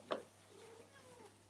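A single pet cat, a female, lets out a short meow close by, with a rising then falling pitch, followed by quieter indoor room tone.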